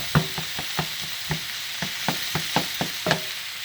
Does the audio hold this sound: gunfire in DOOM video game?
no